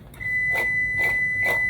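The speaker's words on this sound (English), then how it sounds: "I was preheating my oven to 425. If you heard that beep. It's done preheating." Kitchen oven signalling it has finished preheating to 425, a sustained high electronic tone with three short repeated beeps, fairly loud and close in a quiet room with no talking.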